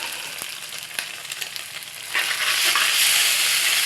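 Boiled noodles go into a pan of fried potato, onion and green chili, with close stirring scrapes, then the sizzle swells sharply louder halfway through and holds steady.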